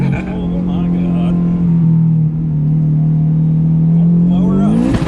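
A turbocharged Honda S2000 engine revs hard and steadily for about five seconds, a loud sustained drone that climbs in pitch at the end, with voices in the background.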